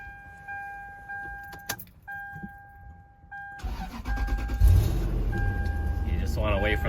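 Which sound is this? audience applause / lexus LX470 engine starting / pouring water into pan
lexus LX470 engine starting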